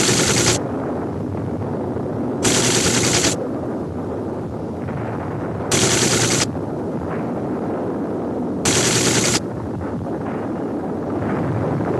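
Archival wartime sound of the battleship Arizona exploding during the Pearl Harbor attack, a continuous roaring rumble of blasts and gunfire with loud hissing bursts recurring every few seconds, no voices.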